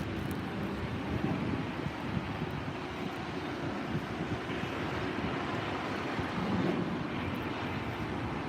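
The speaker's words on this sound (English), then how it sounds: "Great close-up view of the 321 Neo." An Airbus A321neo airliner at LAX gives off a steady, broad engine roar mixed with gusty wind noise on the microphone, continuous and fairly loud with no talking.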